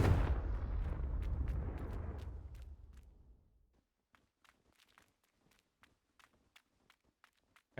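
A Confringo fire spell cast in Hogwarts Legacy bursts out as a loud, roaring blast that fades over about three seconds, followed by quiet scattered footsteps.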